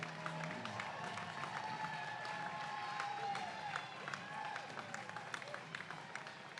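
Spectators clap and cheer along the course as runners pass in the Oz Day 10K wheelchair road race, a steady, moderately distant wash of applause with scattered whoops and crowd noise throughout.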